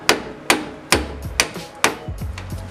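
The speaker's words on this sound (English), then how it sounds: "Something that I do when I can't break the bolt loose is just use a rubber mallet and freaking convince that thing." A rubber mallet strikes a stuck brake caliper bolt on a 9th-generation Honda Civic Si during a front brake job: six or seven close, loud, dull thuds in a quick steady rhythm, with faint metallic ringing after some blows.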